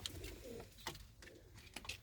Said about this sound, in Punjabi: ਇਹ ਦੇਸੀ ਕਬੂਤਰ ਆ ਪੁਰਾਣੇ ਸ਼ੌਂਕੀ ਨੇ